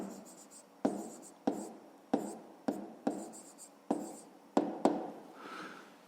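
A math problem being written down by hand makes a series of about nine sharp taps, each followed by short scratchy strokes, close and moderately loud, in an irregular rhythm with no speech over them.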